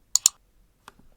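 A computer mouse gives two crisp clicks in quick succession, followed by a fainter single click after a short pause, close and alone in silence.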